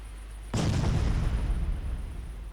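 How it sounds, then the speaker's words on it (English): Two torpedo strikes burst against a warship in the naval battle game Ultimate Admiral Dreadnoughts, a sudden loud explosion with a deep rumbling roar that lingers and slowly fades, no voices over it. "2 torpedo strikes"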